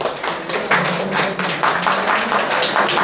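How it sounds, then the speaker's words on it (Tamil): A classroom group clapping hands together, a dense patter of overlapping claps that keeps going steadily and fairly close, with no voices over it. "அந்த பொண்ணுக்கு ஒரு கைதட்டு கட்டுங்க சும்மா."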